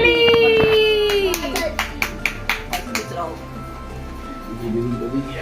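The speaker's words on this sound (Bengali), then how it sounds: "হাততালি" Several people clap their hands together in a quick run of about ten sharp claps, with children's voices and other chatter around them.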